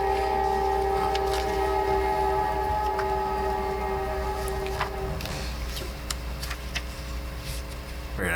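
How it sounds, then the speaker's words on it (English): A train passes near a downtown meeting room, its horn sounding as long steady tones over a low rumble that eases after a few seconds, leaving fainter rail clatter with no talk. "We might want to wait for the train to go by."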